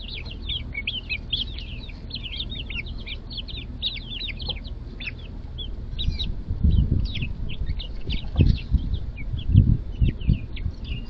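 Backyard chickens cluck and chirp continuously in the background, with scattered soft bumps and pecking thuds growing louder in the later seconds.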